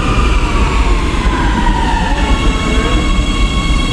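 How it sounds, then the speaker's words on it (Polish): A Warsaw metro train passes at Wawrzyszew station, a loud continuous roar with rail rumble and a high steady whine that persists throughout, close by and with no voices. "I patrzę na pociągi, na metro."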